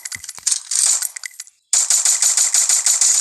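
Automatic gunfire from the mobile shooter game Free Fire, with scattered shots early on, then a steady run of rapid, evenly spaced bursts, loud and close.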